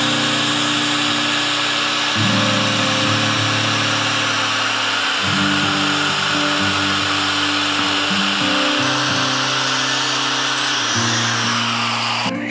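Power tool cutting a steel steering part in half for a custom cab-over motorhome steering build, a loud sustained whine that shifts pitch as the blade bites and eases, running alone without talk.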